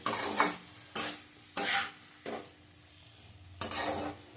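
Tomato masala stirred and sautéed in a pan, with bursts of spatula scraping and sizzling at irregular intervals, close and fairly loud, with no voices.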